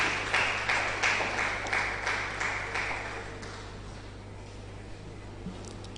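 Audience applause at a university research and innovation day, greeting a professor of entrepreneurship, development and innovation; a fairly faint, steady patter of many hands clapping that gradually fades toward the end, with a low constant hum beneath.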